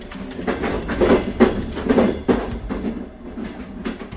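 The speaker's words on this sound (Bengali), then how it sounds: "বেগুন কোদরের শেষ লোকাল ট্রেনটা ছুটে আসছে ক্রমশ" A last local train rushing toward a quiet station as a drama sound effect, its rumble rising and pulsing in rhythmic clatter, fairly close, then easing, with no voices.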